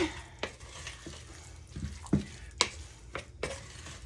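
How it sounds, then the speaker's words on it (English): Spoon stirring a chicken club brunch ring filling mixture in a bowl, a few sharp scraping and clacking strokes spaced unevenly over quiet, close and fairly soft. "you just mix that all up"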